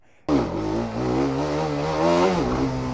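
Apache RR 310 motorcycle engine revving hard and holding high revs during a wheelie, a loud, close, steady roar that starts abruptly and continues throughout with slight pitch dips.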